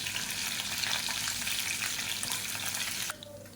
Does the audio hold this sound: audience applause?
no